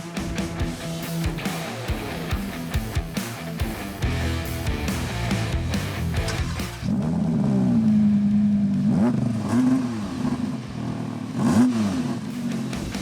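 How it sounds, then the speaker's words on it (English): Rear-wheel-drive Audi R8 V10 Performance engine revving hard and accelerating, loud and close, with choppy rapid blips and gear changes that give way to a sustained rising howl. "let's check out the sound and the acceleration"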